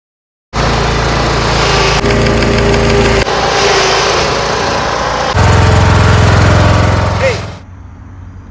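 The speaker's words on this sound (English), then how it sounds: "Got the engine installed, runs just fine, mows just fine." A John Deere Z225 zero-turn mower's 20 HP Briggs V-twin engine runs loud and steady for several seconds, its pitch shifting slightly partway through, then cuts off abruptly into quiet.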